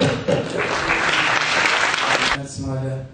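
An audience gives a sustained round of applause at the close of a seminar, dense and steady clapping for about two seconds before it thins out, with voices heard around it.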